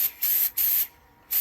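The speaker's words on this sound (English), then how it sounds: "I will spray that again when I get to the end" Finish sprayed from an aerosol can onto a turned wooden bowl, three short bright hissing bursts separated by brief pauses, close and loud with no talking.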